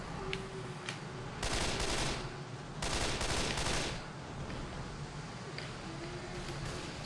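Gunfire in the video game Left 4 Dead 2 during the Hard Rain campaign: two bursts of rapid shots, each lasting about a second, over a steady background of game noise.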